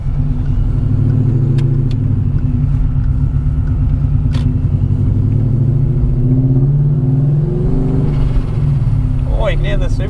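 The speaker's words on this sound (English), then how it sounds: "Oh, you can hear the supercharger." A supercharged BMW E39 M5 S62 engine runs steadily and loud, a low rumble with a faint high supercharger whine on top, revving briefly near the end.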